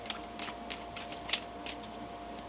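Tarot cards being shuffled by hand, a string of soft papery riffles and slaps spaced unevenly, close and moderately quiet over a faint steady background hum.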